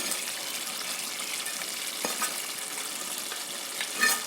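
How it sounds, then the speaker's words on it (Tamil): Sautéed onion, potato and ginger-garlic go into a boiling village-style mutton gravy, bringing a steady close sizzle and bubbling with a few louder splashes and stirring clatters near the end. "இப்போ ஒரு 3 நிமிஷம் நல்லா கொதிக்க விட்டதுக்கப்புறமா நம்ம வதக்கி வச்ச வெங்காயம், அந்த உருளைக்கிழங்கு, இஞ்சி பூண்டு அதை இந்த மட்டன் கூட சேர்த்துடலாம்"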